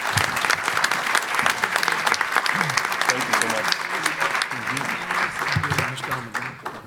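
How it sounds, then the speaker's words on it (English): Sustained applause from an audience honoring winners at a meeting, dense clapping filling the room for several seconds before tapering off at the end. "let's give another round of applause to our winners."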